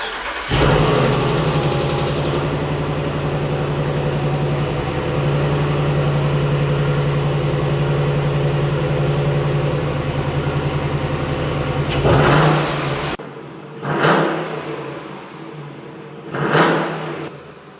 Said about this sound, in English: I'm gonna fire up the truck here and do a couple revs just so we can hear the comparison between the stock airbox and the new one that we got